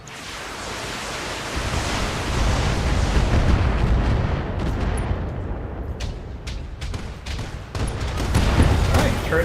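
In the Battletech video game, turret gunfire and explosions rumble continuously as a dense, loud barrage, with sharper individual shots cracking out toward the end.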